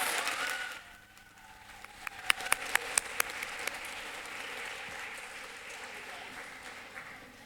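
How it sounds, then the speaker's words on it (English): Audience applause for youth speech contestants at a speech competition finals for ages 11 to 14, a sustained wash of clapping from a crowd with a few sharper claps standing out, fading slightly early then holding steady. "let's give a big round of applause to these contestants"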